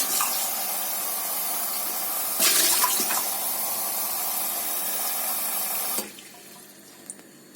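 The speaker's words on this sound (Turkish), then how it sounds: "Birkaç tane suyu boşaltalım." Water runs steadily from a repaired household faucet that had been spitting black sediment, a close, continuous rushing hiss that swells briefly midway and then cuts off, leaving quiet room tone.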